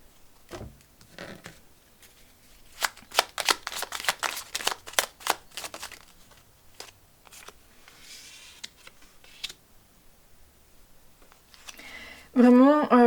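Oracle cards are shuffled by hand in a quick burst of crisp riffling snaps near the start. Scattered softer card handling follows, and a voice begins speaking at the very end.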